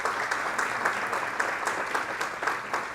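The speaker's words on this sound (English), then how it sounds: "please rise and let's give a huge round of applause to all of them for their wonderful, wonderful support" A seated audience at a women's roll of honor ceremony applauds the event sponsors, a steady dense wash of many hands clapping continuously from start to finish.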